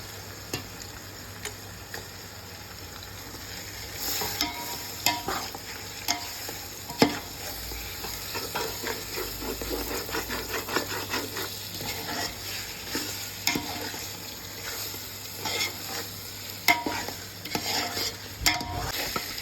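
Chicken frying with ginger garlic paste for a Dindigul-style dum biryani, stirred constantly in the pot: a steady close sizzle with scraping spoon strokes against the vessel running throughout, no talk.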